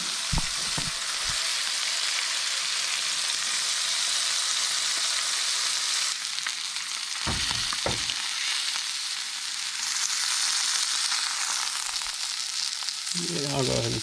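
A triggerfish fillet fries in a pan, giving a steady close sizzle throughout with a few brief knocks and scrapes and a short voice near the end.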